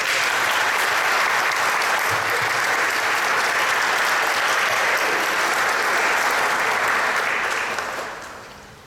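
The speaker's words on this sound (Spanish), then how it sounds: "Los saludamos con un cariñoso aplauso." Congregation in a church applauds during a Mass welcoming a visiting monsignor, sustained loud, dense clapping that fades out at the end.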